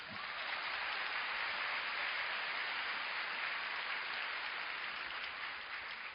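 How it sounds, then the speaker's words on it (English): A seminar audience applauds in a steady, continuous round that is fairly quiet and distant, with no pauses for about six seconds. "Shall we give them a round of applause?"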